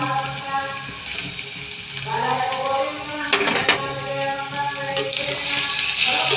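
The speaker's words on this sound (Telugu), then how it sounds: "దీంట్లోకైతే ఇప్పుడు క్యాప్సికమ్ అనేది వేసేసుకుందామండి అది కూడా తొందరగా ఫ్రై అవ్వదు" Chopped capsicum frying in a pan for a capsicum tomato curry, giving a steady moderate sizzle with a brief louder hiss midway and a faint voice in the background.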